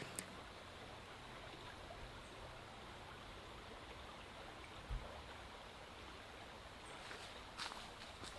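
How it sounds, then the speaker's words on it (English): A small river flows steadily in the open countryside, a continuous soft rushing of water with a couple of faint footstep-like knocks partway through. "So I followed the river for a little ways until I found a crossing point."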